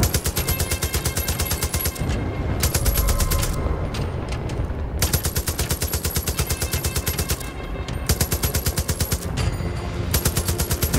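Mounted gun in Far Cry 5 firing long sustained bursts of rapid, evenly spaced shots with brief gaps between them, loud and close, with no talk.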